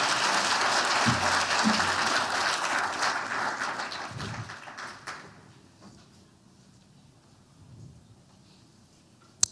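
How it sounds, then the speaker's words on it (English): An audience at a 2024 hall-of-fame banquet applauds student athlete scholarship recipients; dense clapping fills the room for about five seconds, then fades to quiet murmuring. "please join us in a round of applause for our well-deserving student athlete scholarship recipients"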